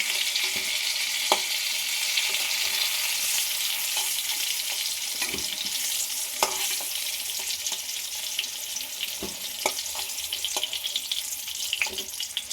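Pointed gourd (potol) fries in hot oil with a steady high sizzle, broken by occasional clinks and scrapes as pieces are lifted out. There is no talking.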